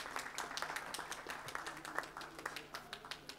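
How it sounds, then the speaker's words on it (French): Faint applause from a conference audience at a forum on Africa-Europe partnership, scattered distinct claps forming a loose, uneven patter, quiet and somewhat distant, without voices over it. "Applaudissements très dynamiques"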